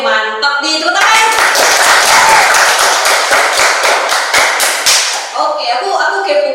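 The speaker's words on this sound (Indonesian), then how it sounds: "mantap nih, tepuk tangan" A group clapping hands in a podcast studio: a dense, loud burst of applause-like claps lasting several seconds, with voices talking and exclaiming over it at the start and end.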